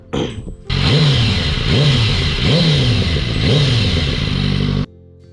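A BMW S1000RR superbike engine revs repeatedly, four rising-and-falling roars in quick succession, loud and close, then cuts off abruptly.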